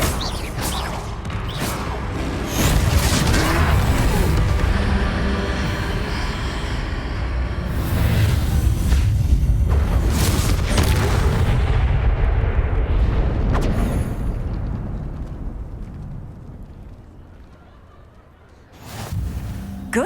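Confringo fire spell explosions in the Hogwarts Legacy video game, a dense, loud run of booming blasts and rumbling impacts that fades toward the end before one last burst.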